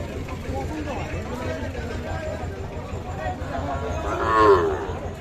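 Young Sahiwal bull calves moo at a busy cattle market in Ambari, a low drawn-out call rising near the end over constant crowd chatter and voices.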